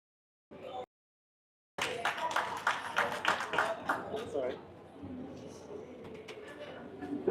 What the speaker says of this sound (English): Please, round of applause for Dr.